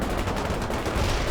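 Infantry grenade launches in the video game World in Conflict, a dense burst of loud overlapping blasts and gunfire, heard alone.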